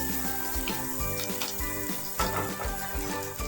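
Onion and green chilli frying in hot oil with chopped ginger and garlic in a pan for egg chilli, a steady dense sizzle running close and even throughout with occasional stirring scrapes.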